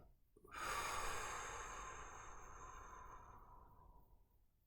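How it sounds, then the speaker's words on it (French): One deep breath drawn in through the nose, then a long slow exhale that fades gradually over several seconds, close and soft, during a sophrology relaxation exercise, without talking. "Prenez une profonde inspiration en gonflant le ventre et la poitrine."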